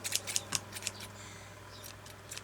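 Large scissors snip through material for a journal cover, several quick crisp cuts in bursts near the start and a few more toward the end, close and fairly quiet.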